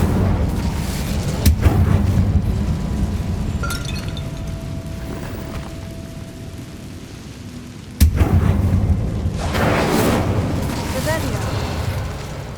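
A fire spell cast in Hogwarts Legacy lands with a loud booming burst, followed by a second heavy crackling blast about six seconds later, with game ambience between them.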